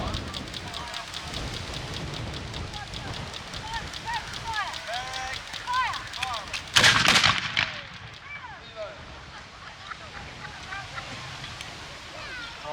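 Historical cannon fired at a military reenactment show, a single loud booming blast partway through with a rumbling decay, set against ongoing outdoor crowd ambience and talk.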